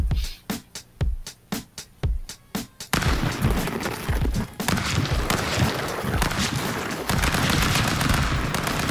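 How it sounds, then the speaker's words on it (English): Barrett rifle fire in the video game Stick Fight: a rapid string of sharp, loud shots at an even rhythm, giving way to a dense, continuous burst of chaotic gunfire and explosions. "That was a Barrett, first time I've ever seen it."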